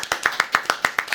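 Audience at a talk-show welcome clapping in a quick, even rhythm of close, crisp hand claps, about eight distinct strikes, with no voices.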